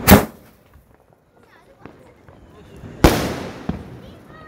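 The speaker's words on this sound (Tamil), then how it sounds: "அது ஒரே பாக்ஸ்க்குள்ள மூணு விதமா வெடி வெடிக்குது" Two sharp Diwali firecracker bursts, one at the start and another a few seconds later, each followed by crackling pops and a fading rumble outdoors.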